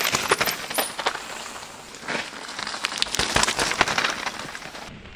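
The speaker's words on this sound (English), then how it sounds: "Little touch of rain." Light rain patters outdoors at an enduro mountain bike race on Innerleithen trails, a dense crackle of small drops falling steadily throughout, with no voices.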